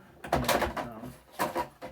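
Plastic right-side cover of an HP MFP 179fnw laser printer being snapped into place, a few close, sharp clicks and knocks in two quick bursts.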